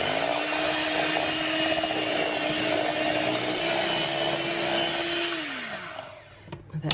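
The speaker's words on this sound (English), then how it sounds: "a half a cup of milk. And we'll just gently whisk that in." Muffin batter of eggs, vanilla and milk being whisked in a bowl, a steady continuous scraping whir that holds evenly for about six seconds, then stops and trails off into a few small knocks.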